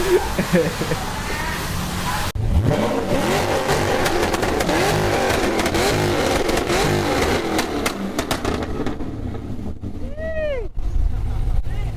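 A car with an LS2 V8 engine revs loudly nearby in an outdoor setting, with rising and falling roars and a sustained throaty rumble, while people talk and shout over it.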